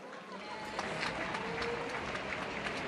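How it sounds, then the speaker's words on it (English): Steady crowd applause fills the space, a dense wash of many hands clapping at an even level throughout. "Shall we give all our cultural troops an encouraging round of applause?"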